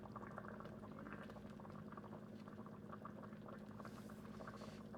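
Raw vegetables are laid into the simmering liquid around a pot roast, with a steady boiling bubble and faint splashes throughout and no talking.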